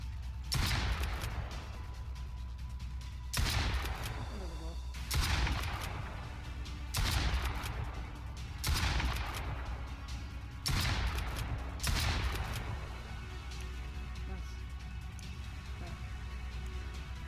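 A shotgun fires repeatedly in the Mist Survival survival game, with six evenly spaced sharp blasts about every two seconds over a steady background rumble, moderately loud and with no talk over them.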